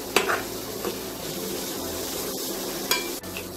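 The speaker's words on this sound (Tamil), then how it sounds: "மிளகாப்பொடி கரம் மசாலா இதுவும் போட்டு ஜஸ்ட் ஒரு half minute to one minute வரைக்கும் கொஞ்சம் வதங்கட்டும்" Chili powder and garam masala being fried in a pan for oats vegetable cutlets, a soft steady sizzle with a few sharp spoon scrapes and taps against the pan.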